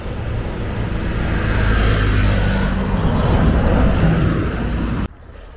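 Bermuda's number 1 Hamilton bus rumbles past near a roadside in Devonshire, a steady loud engine and tyre roar that swells and then cuts off abruptly near the end.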